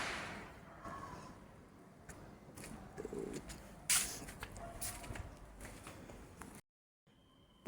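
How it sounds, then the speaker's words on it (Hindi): Birds call and coo intermittently at dawn over a soft outdoor background, with a few sharp bursts and a brief silence near the end. "पक्षियों की चहचहाने की आवाज़ भी आ रही है।"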